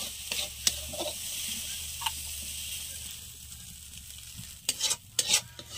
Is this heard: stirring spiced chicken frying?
yes